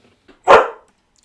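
A single short puppy bark, loud and close, with a faint yip just before it and quiet afterward.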